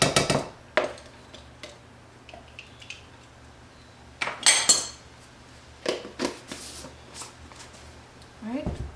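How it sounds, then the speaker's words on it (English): Chicken stir-fry ingredients for moo goo gai pan, with chicken and mushrooms, being mixed in a bowl: scattered clinks and scrapes of a utensil against the bowl, faint and intermittent, with someone talking at times. "Okay, mix this really well."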